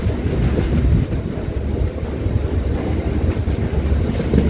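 A passenger train rolls into Nandalur station on its first stop, a steady rumble of railcars with faint clickety-clack and some wind buffeting, heard from on board with no talking.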